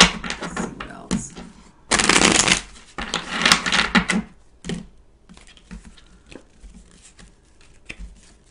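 Tarot cards are shuffled up close in quick riffling bursts, loud clattering flurries with short pauses between, then trailing off into softer taps and handling.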